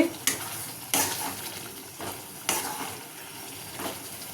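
Eggs for egg bhurji are stirred in a pan with oil, a spatula knocking against the metal in several sharp, spaced scrapes over a faint sizzle, with no talking.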